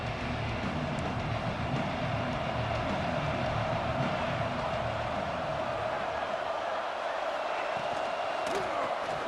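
Stadium crowd roar from a college football video game, a steady loud wash of cheering that runs continuously throughout, with a commentator's voice heard over it.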